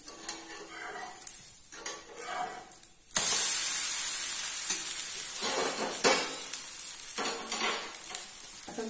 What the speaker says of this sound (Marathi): डोसा आता आम्ही परतून घेते